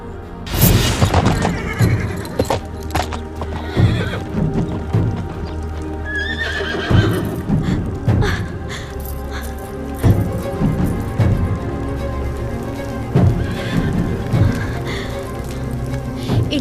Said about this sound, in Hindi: इनका घोड़ा यही है,